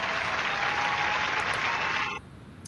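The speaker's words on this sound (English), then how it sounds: "Can we get a round of applause over there, Mr. Producer Ryan?" Studio audience applause during a live show, a dense sustained round of clapping that cuts off abruptly near the end.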